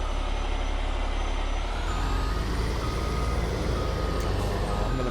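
Truck reversing alarm in the Farming Simulator 22 video game, steady repeated beeps over a continuous engine drone, loud and close throughout.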